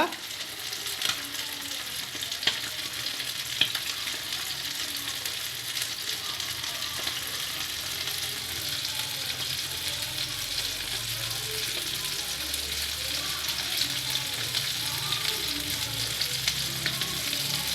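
Fish pieces frying in a pan, a dense, even hiss of hot oil that runs unbroken throughout, with a few faint clicks and soft low rumbles beneath, moderately quiet and close.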